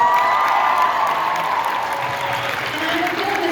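Convention audience at a Charmed panel at 90s Con 2023 cheering and applauding, a loud sustained wash of clapping and whoops that swells and holds for a few seconds.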